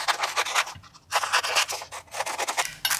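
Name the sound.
trimming the borders off a book page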